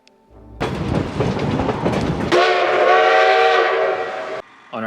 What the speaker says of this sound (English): we ventured to Durango to experience the Durango to Silverton narrow gauge railroad